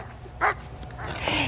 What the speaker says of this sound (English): The 8-year-old German Shepherd is the first service dog for the department.